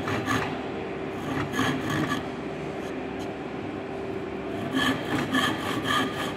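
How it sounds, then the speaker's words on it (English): A crosscut saw or hacksaw cutting a wooden piece in a carpentry workshop, with bursts of rasping back-and-forth strokes, close and fairly loud, pausing for a few seconds midway over a steady mechanical hum. "now we will cut with this cross cut saw or hacksaw"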